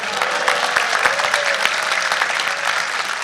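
A seated audience at a shipboard summit at sea breaks into loud, sustained applause, dense clapping filling the room without pause.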